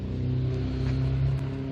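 A 2002 BMW 535i with an enormous exhaust revs at a retro car show, giving a steady, loud, close engine drone with a deep, even rumble throughout.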